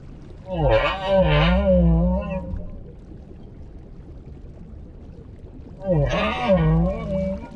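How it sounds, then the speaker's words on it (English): Humpback whale song: two long, moaning, wavering calls with rising and falling pitch, separated by a quiet watery gap, close and clear. "The humpback song is a powerful form of communication."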